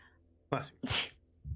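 A quick sneeze in the video game Pathologic 3, a sharp breathy burst after a short intake of breath, followed by a brief low voice.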